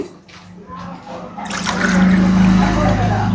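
Coconut milk being poured for cooking: quiet handling at first, then a swelling, steady liquid splash and gurgle that grows louder and continues to the end, with faint voice in the background.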